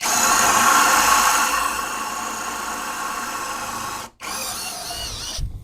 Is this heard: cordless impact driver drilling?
yes